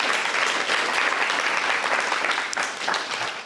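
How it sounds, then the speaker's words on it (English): An indoor audience at a guide dog graduation claps for volunteers, dense steady applause from many hands that stays full and close throughout. "A round of applause for our volunteers."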